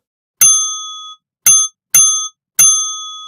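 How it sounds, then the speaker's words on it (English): A bright bell ding sound effect rings four times, each a crisp metallic strike with a short ringing decay, loud and alone against silence, spaced irregularly. "Let's give them a bell."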